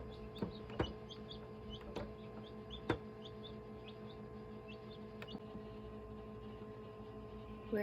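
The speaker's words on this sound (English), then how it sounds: "now it is hatching and it looks like there's just one chick inside and it looks healthy" A chick hatching inside a shipped egg in an incubator gives soft, high peeps repeated in a loose rhythm, with a few faint taps, all quiet and close.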